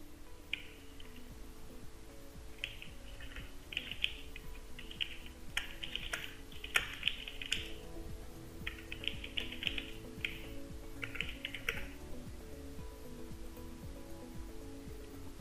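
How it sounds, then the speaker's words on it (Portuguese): Typing on a computer keyboard at a desk, with soft clustered bursts of key clicks in short runs separated by pauses, faint and close over a quiet background hum, with no talking. "basta digitar a descrição do feriado e a data e clicar no botão Adicionar."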